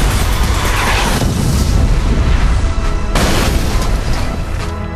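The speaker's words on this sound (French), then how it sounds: "faites exploser votre voiture en gonflant le crash breaker" In the video game Burnout Revenge, a crash breaker explosion blows up a wrecked car in a loud, sustained booming roar with a second heavy burst partway through, and no talking.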